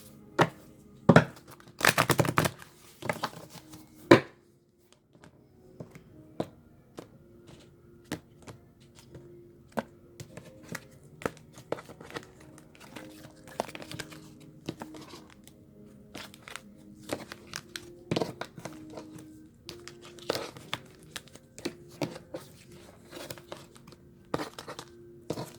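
Close, repeated soft flicks and riffling taps of tarot cards being shuffled, coming in irregular bursts with brief pauses, with no voices.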